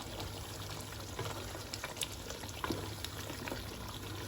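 Meat goes into hot oil and masala in a pan on high gas and is stirred through, giving a soft steady sizzle with scattered scraping clicks.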